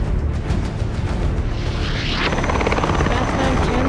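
A helicopter in the LEGO Batman video game thrums steadily with rapid rotor chop, loud and close throughout, while game voices speak over it and a rising whoosh sweeps through midway.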